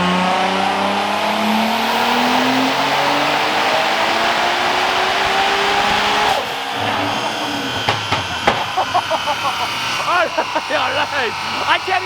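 A car rated at 980 wheel horsepower accelerates hard at full throttle, and its loud engine roar rises in pitch. The car then fades into the distance while people talk excitedly over it.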